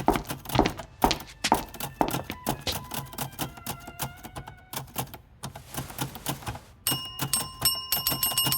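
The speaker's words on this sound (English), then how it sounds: "You needn't ring the bell, ma'am." A service bell rings in a video game, bright repeated dings among clicking, typewriter-like taps and thunks, with a final cluster of high chimes near the end.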